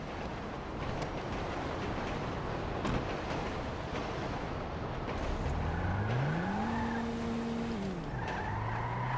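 A car driven through the streets in Grand Theft Auto V, with steady engine rumble and road noise, a tire squeal, then a rising and falling tonal whine like a siren or horn toward the end.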